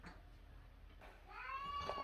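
A young kitten gives one soft, rising meow near the end, faint and close, after a quiet, low-level room background.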